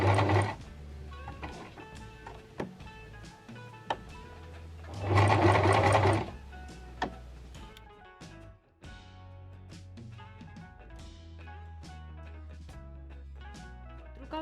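A sewing machine stitching a curved seam, rapid mechanical clatter in bursts with short pauses and one louder, faster run, close and clear.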